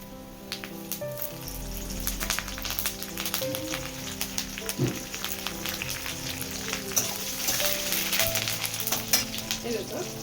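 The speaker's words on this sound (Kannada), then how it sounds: "ಇದಕ್ಕೆ ಇವಾಗ ನಾನು ಕರಿಬೇವಿನ ಸೊಪ್ಪು ಹಾಕ್ಕೊಳ್ತಾ ಇದ್ದೀನಿ." Curry leaves sizzle and crackle steadily in hot oil during home cooking of a tempering, a dense close frying hiss with no talking.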